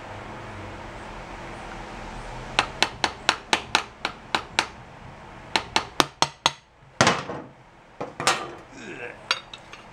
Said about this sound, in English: Gotta find a good place to see if you can kind of tap on it from the backside.